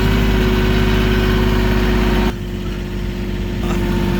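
A tractor engine in low gear with the differential locked, churning through wet mud, runs as a steady, loud, low drone that drops slightly in pitch partway through, with no talking over it.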